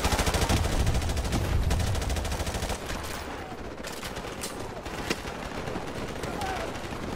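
Suppressive gunfire rages in Call of Duty: Modern Warfare Remastered, with dense, continuous rapid shots and heavy low rumble that ease after a few seconds into scattered bursts, loud and close, with a voice speaking over part of it.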